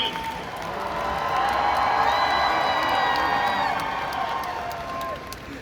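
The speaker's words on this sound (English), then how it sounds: "keep that applause going for Mr. Brandon" Large indoor crowd at a fan expo Q&A session in Dallas applauding, cheering and whooping, a loud sustained wash of clapping and shouts that swells and holds for several seconds before easing slightly.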